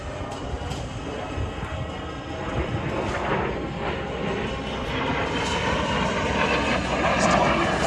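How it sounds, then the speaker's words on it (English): An aerobatic jet at an air show roars steadily overhead, a broad, continuous rushing engine noise that swells gradually louder over several seconds. "taking the jet high up into the sky. Way up over the top."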